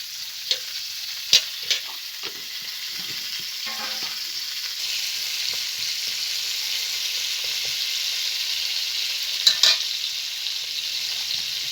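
Pieces of pointed gourd sizzle steadily in hot oil, with a few sharp clacks of a spoon or spatula stirring them against the pan; no voices.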